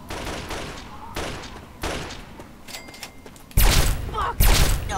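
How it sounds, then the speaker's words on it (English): Gunfire in Fallout 3, repeated sharp shots spaced a second or so apart at middle distance, then two louder, closer bursts near the end, with a voice briefly talking. "Something's firing up there. Okay. They're firing at somebody else."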